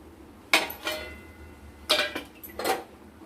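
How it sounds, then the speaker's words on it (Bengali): A spoon stirs fish curry gravy in a pot in three short bursts of scraping and knocking against the metal, close and otherwise quiet. "লবণ দিয়ে আমরা এটাকে ভালো মতো করে ঝোলটাকে নাড়াচাড়া করে দেব।"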